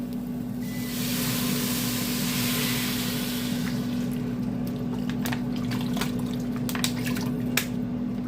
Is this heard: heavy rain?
no